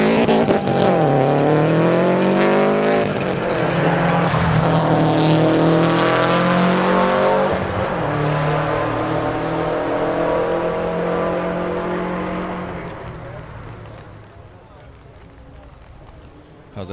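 A race car climbing the Pikes Peak hill climb screams through the gears, its engine pitch rising and dropping with each shift, loud and close, then fading toward the end, while a commentator talks over it.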